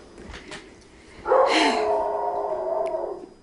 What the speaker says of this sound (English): Can you go and get the dog to stop Pandeli?